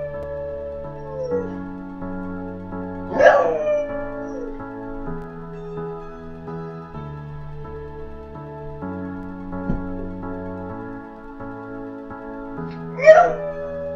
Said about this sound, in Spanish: el drama de este perrito cuando se le cae el juguete al piso